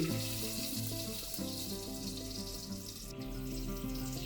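Ghee crackles and sizzles in a well-heated pot while chicken biryani is prepared, a loud, continuous frying hiss with faint tonal hum underneath.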